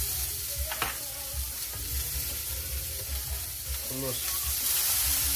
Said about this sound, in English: Put the dumplings. Let that cook real good.